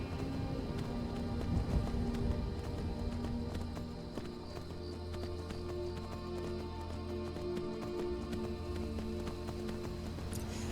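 Horse hooves clip-clop steadily while riding in Skyrim, a continuous rhythmic galloping patter with outdoor ambience, loud and close throughout.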